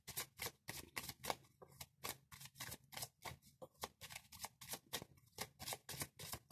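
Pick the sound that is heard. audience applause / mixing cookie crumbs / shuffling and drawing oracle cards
shuffling and drawing oracle cards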